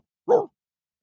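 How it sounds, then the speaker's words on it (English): A single short dog bark sounds close and distinct, surrounded by silence. "A barking noise."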